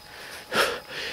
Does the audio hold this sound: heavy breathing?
yes